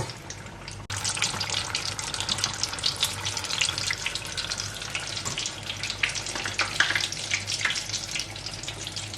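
Loud, dense crackling and bubbling of shrimp and minced pork spring rolls deep frying in hot oil begins suddenly and continues steadily, close up, with no talking.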